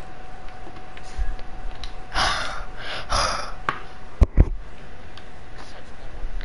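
Horse breathing in the Minecraft video game, a few heavy breathy gasps and snorts spaced a second or so apart, fairly close, followed by two sharp clicks, with no talk over it.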